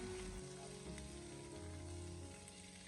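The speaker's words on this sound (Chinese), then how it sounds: "我们开中小火给它慢慢的进行翻炒，把猪蹄给它炒至微微的金黄焦香" Pork trotters with star anise are stir-fried in a wok over medium-low heat for red-braised trotters. A soft, steady sizzle continues alone at low volume throughout.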